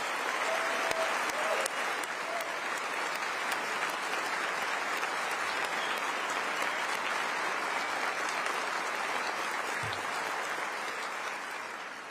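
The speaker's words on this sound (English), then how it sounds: "Can we give him another round of applause?" Sustained applause from a large crowd at a formal state event in Utah, steady and dense for the whole stretch, with a faint voice briefly audible beneath it early on and a low thump near the end.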